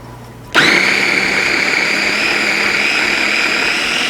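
A food processor blending hummus with a garlic clove kicks on abruptly after a quiet half-second, then runs as a loud, steady high-pitched motor whine to the end.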